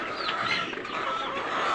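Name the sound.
Egyptian Fayoumi layer chickens clucking on a farm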